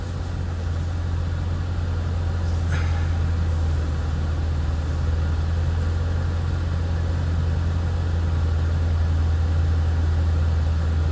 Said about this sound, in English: Alright, so we're going to back this car up.